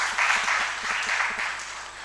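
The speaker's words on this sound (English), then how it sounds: "The clap you have heard, we are appreciating." Audience at a national policy conference in Uganda applauds steadily, a dense, continuous clapping that holds at even loudness for about two seconds before tapering slightly.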